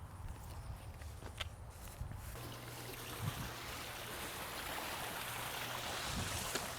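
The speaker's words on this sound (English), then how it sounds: "So let me go ahead and turn the waterfall on" A small waterfall, switched on, gives a faint, steady rush of running water that swells slightly and continues without pause.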